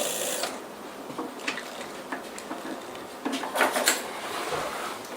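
A sewing machine stitching a leather jacket, with close mechanical clicking and whirring in uneven bursts and a few louder rattles toward the end.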